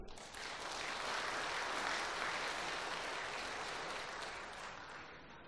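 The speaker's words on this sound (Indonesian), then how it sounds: "Tepuk tangan dulu." Audience applause at the swearing-in ceremony of Malang Regency DPRD council members, a dense, steady wash of many hands clapping throughout, fairly soft and distant, easing slightly toward the end.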